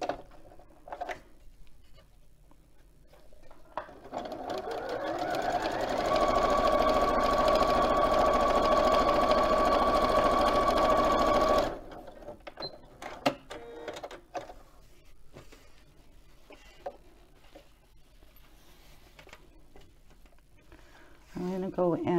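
A sewing machine stitches loudly and steadily for several seconds, its whirring run starting and stopping abruptly, with talk and handling noises before and after.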